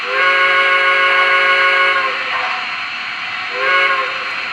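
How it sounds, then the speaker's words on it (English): A loud, shrill model train steam whistle blows steadily with a hissy edge, drops briefly, then sounds again in a shorter blast; no voices. From an MTH PRR E6 Atlantic model locomotive. "So the only thing with sounds that I really don't like is the whistle refresh rate"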